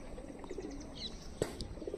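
Madrasi pigeons cooing softly at close range in an evening coop setting, with a few faint chirps and a brief sharp rustle or wing flutter partway through.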